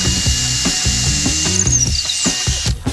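A power drill bores a small hole in the top of a wooden table-leg candlestick, giving rapid, close ratcheting and grinding bursts with a brief rising whine near the end.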